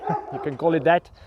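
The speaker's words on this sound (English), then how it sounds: "Sorry for the dog barking" A dog barks and yips several times in short bursts at a house that also serves as a solar power test facility, fairly close, while someone talks over it.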